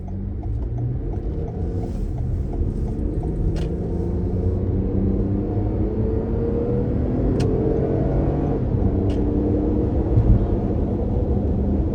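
A 2022 Toyota Highlander three-row SUV cruises at highway speed, giving a steady, continuous engine and road rumble with tire noise throughout, no voices over it.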